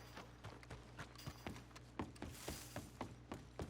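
Horse hooves in Red Dead Redemption 2, a steady clip-clop of several footfalls in a quick, even rhythm, close and fairly quiet, with no voices over them.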